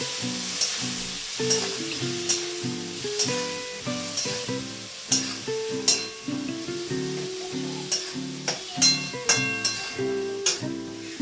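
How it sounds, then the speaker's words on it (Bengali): Spice masala fries with a splash of water in a pan, a continuous sizzle punctuated by regular scraping strokes and clanks of a spoon against the metal, alone without speech. "এবারে একটু জল দিয়ে দিয়ে মশলাটার ওখানটা দেবো। মশলাটাকে কষে নিই।"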